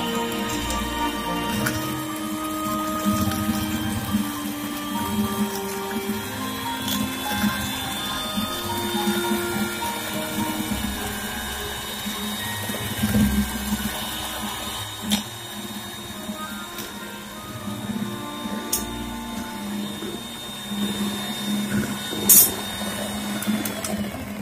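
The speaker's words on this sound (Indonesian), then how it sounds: "Kemudian mixer adonan dengan kecepatan tinggi hingga mengembang, kira-kira selama 5 menit." An electric mixer whirs at high speed, beating dragon fruit ice cream batter, a steady close motor drone with rattling beater scrapes that lasts throughout.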